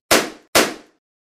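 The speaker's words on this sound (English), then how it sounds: "Who is banging on the door aggressively?" Two loud, heavy bangs strike a door about half a second apart, each a sharp impact with a short decay, close and isolated against silence.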